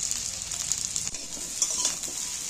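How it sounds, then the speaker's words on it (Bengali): Chopped taro and yardlong beans fry in a pan with a constant close sizzle, broken by soft scraping stirs and small crackles. "আর ভালো করে ভেজে নিচ্ছি। কিছুটা হয়েছে, এখনো কিছুটা ভাজছি।"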